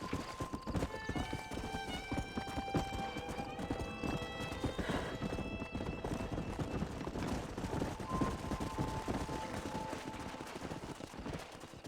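Horse hooves clip-clop steadily in the video game Red Dead Redemption, a close, continuous rhythmic gait layered with a musical score and occasional whinnies.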